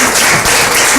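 University audience welcomes a guest with loud, dense applause that holds at full strength as a continuous roar of many hands.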